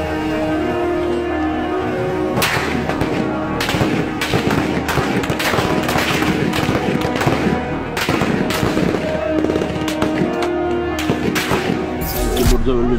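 Gunfire as soldiers shoot at civilians during the Turkish coup attempt, dense loud cracks and bursts of shots over a constant roar of crowd noise and shouting, continuous throughout.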